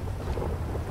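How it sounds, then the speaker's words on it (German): A thunderstorm with rain in Grand Theft Auto V gives a steady, dense low rumble under a wash of rain hiss, continuous and fairly loud, with nobody speaking. "es ist Gewitter, es ist dunkel, es ist nass"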